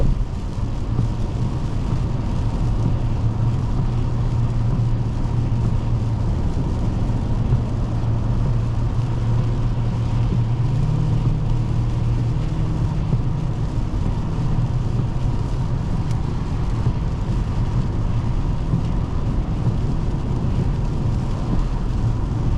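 A 2022 Genesis G90's 5.0L V8 hums in a low, steady drone while cruising, with road and wind noise filling the cabin for the whole stretch and no talking.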